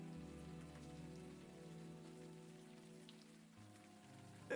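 Rain falls steadily in the adventure game Unavowed, a faint, even hiss of drops over a low droning background tone that stays level throughout.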